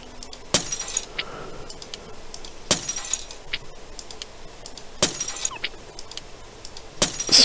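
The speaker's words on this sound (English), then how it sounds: "Smashing the lenses, which we've used." Glass lenses smashing in Dark Disciples 2: four crisp shattering breaks at irregular intervals, bright tinkling debris after each, with soft clinks in between.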